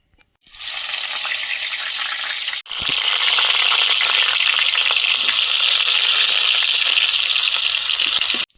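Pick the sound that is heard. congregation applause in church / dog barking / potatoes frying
potatoes frying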